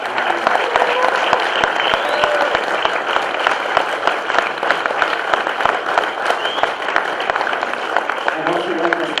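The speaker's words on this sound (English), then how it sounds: "One more round of applause to our candidates up front." A crowd at a political candidates forum applauds the candidates up front, dense continuous clapping at fairly close range with scattered voices and cheers mixed in.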